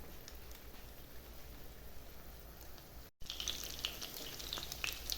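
Steady crackling sizzle of chopped cutlets with cheese frying in hot oil, close and continuous, briefly cutting out then returning a little louder with sharper pops.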